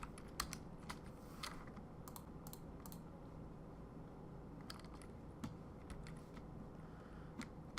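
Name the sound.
typing 'lead' on a computer keyboard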